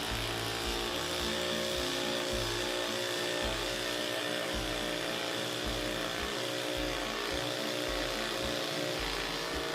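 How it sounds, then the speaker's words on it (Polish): A cordless impact driver sinks large wood screws, its motor whine overlaid with a steady, rapid hammering rattle that pulses in repeated bursts close up, alone with no talking. "Wkręcanie dużych wkrętów. Zaczynamy od wkrętarki udarowej."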